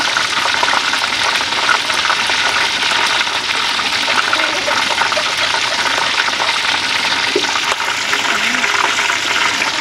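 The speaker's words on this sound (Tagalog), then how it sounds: "hindi naman masyado nagtatagal sa pagpiprito eh, kasi nga luto na yun eh" Chicken pieces, already cooked and not fully submerged, sizzle in a shallow layer of cooking oil, a steady close crackling hiss that runs evenly throughout with no pauses.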